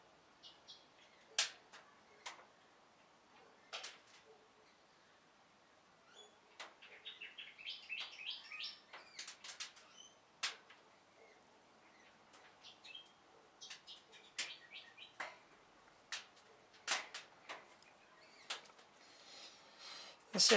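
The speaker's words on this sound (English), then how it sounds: "Native birds outside are beautiful." Native birds call outside a model railway workshop with scattered chirps and tweets, some fluttering phrases, at moderate distance over a quiet background, with occasional sharp clicks.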